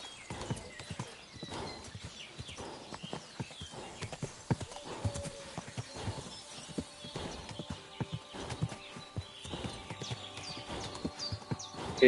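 Horse hooves clip-clopping in the video game Kingdom Come Deliverance 2, a steady, fairly close rhythm of hoof strikes on hard ground, with a few faint clicks and no talk.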